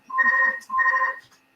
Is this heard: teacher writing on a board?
no